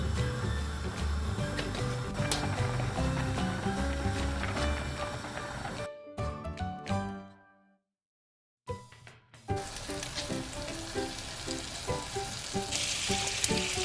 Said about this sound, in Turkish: İşte bir soya sosu ekliyorum.